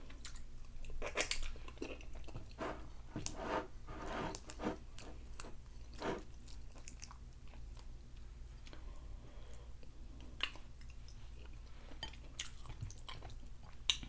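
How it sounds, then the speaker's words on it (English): Someone chewing fufu with the mouth closed, soft irregular wet mastication and squishing sounds, close and faint, with no talk. "this is the time when I close my mouth and I eat"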